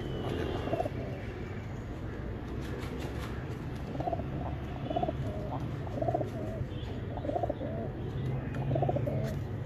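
Soft, low cooing from several pigeons repeats over a steady background murmur, close by and fairly continuous.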